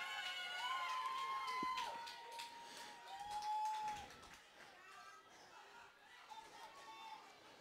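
Soccer fans at an Elmhurst College men's match against Carthage College scream and cheer loudly as a crowd, with shrill individual shouts and whistles rising over the roar before it slowly subsides into murmuring.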